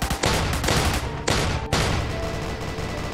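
A grenade blast in a Roblox zombie attack game, a loud, broad rumbling burst followed by a few heavy booms and sustained noisy crackling, with no voices over it.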